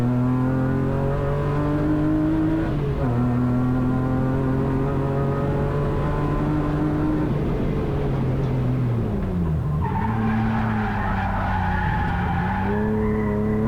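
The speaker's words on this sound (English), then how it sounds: "Big drift through there." A BMW E36 rallycross car drifts through a corner, its engine droning loud and steady with pitch dips as the throttle lifts and returns, and tyres scrubbing and squealing throughout with no voices.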